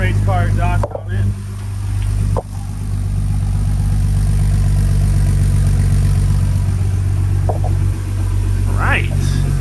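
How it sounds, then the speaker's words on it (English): Jeep XJ with a swapped 4.0 engine and full race exhaust idles loudly and steadily up close, with a short dip and a few brief voices over the rumble. "We got this full race car exhaust on it."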